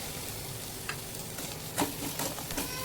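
Finely chopped tomato goes into a pan of masala frying with chilli powder and onion-garlic masala, giving a soft steady sizzle with a few faint stirring scrapes and clicks.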